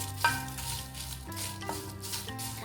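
Cut Byadgi chilies dry roast in a pan, a faint rustling sizzle with a sharp clink at the start and a low background hum throughout.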